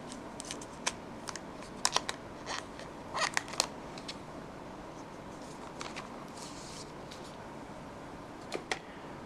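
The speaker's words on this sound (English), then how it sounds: "Okay, so let's take the plastic wrapper off." Plastic wrapper being peeled and pulled off the box of an Honor View10 smartphone, close crinkles and sharp crackling bursts scattered irregularly over a quiet background.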